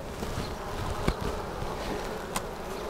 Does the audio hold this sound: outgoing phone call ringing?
no